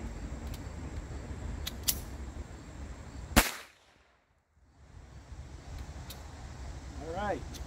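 A single sharp gunshot from a Galesi .25 ACP pistol cracks out loud and close over steady outdoor background noise, followed by a brief near-silent gap.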